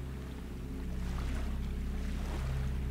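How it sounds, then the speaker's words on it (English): Game waves wash against a rock in Salt and Sanctuary, a steady low surf rumble with wind-like hiss, continuous and moderately loud with no voices. "I woke to the sounds of waves washing on a rock and knew I was alive"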